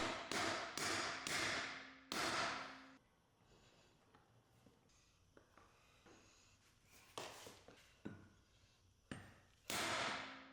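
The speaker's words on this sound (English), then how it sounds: "Give the retaining clip a few swift hits to ensure it seats correctly." Sharp metallic taps from hammering a retaining clip onto a 2024+ Ford Ranger driveshaft carrier bearing: a quick burst of four strikes, a quieter stretch of small clinks and handling noise, then a few more firm hits.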